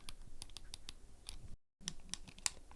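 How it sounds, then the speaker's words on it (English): Clicky, fairly loud L1 and R1 shoulder buttons on an Anbernic RG557 handheld, pressed repeatedly in quick, irregular sharp clicks, close up with a short silent gap partway through. "We have clicky, fairly loud clicky L1 and R1."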